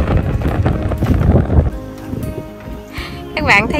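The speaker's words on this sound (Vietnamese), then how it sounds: "Gió quá, gió rồi mình." Strong wind outdoors buffeting the microphone in heavy rumbling gusts, with people talking over it and some rustling and knocking near the end.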